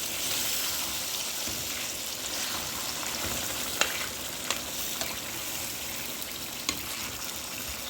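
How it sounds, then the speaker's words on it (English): Crayfish and tomato fry in a pan with a steady, rain-like sizzle, broken by a few faint ticks and pops, moderately quiet and continuous with no speech. "you can see the crayfish getting fried nicely"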